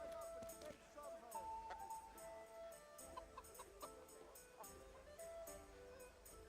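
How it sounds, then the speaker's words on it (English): Chickens cluck in a medieval village in Kingdom Come Deliverance, a few soft, scattered clucks half buried under busy game music and background ambience. "Chicken."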